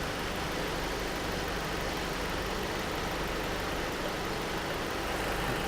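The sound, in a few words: car engine idling during power steering service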